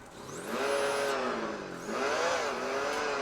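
A micro RC truck's add-on sound module plays a simulated engine squeal, a thin whining tone that rises and dips in pitch over a droning idle, fairly quiet and steady with no voices.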